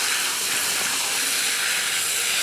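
Steam hisses loudly and steadily from hot water poured into a frozen septic system mound in winter, a continuous broadband rush with no breaks and no talking.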